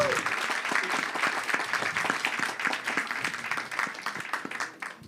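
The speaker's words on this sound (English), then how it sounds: "everybody please applaud him." Audience applause at a panel during an opinion festival in Estonia, a scattered patter of many hands clapping at moderate loudness, with individual claps standing out, continuing for several seconds.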